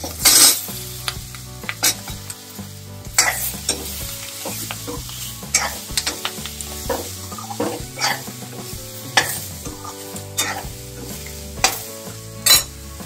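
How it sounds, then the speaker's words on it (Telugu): Ginger, green chili, curry leaves and onion frying in a pan with mustard seeds, a continuous sizzle under frequent metallic scrapes and clinks of a spoon stirring against the pan, close and fairly loud. "అల్లం ముక్కలు, పచ్చిమిరపకాయ ముక్కలు, కరివేపాకు 1 నిమిషం వేయించేసిన తర్వాత ఉల్లిపాయ ముక్కలు"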